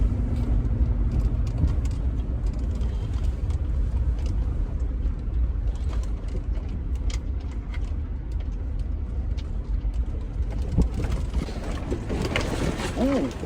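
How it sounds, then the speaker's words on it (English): Hard wind blowing through an off-road truck on beginner trails, a loud continuous rumbling roar with buffeting that stays constant throughout, with no talk over it. "Wind is blowing hard through the truck now."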